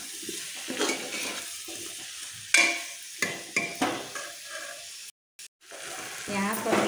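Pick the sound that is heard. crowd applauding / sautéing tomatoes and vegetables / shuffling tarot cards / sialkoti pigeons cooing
sautéing tomatoes and vegetables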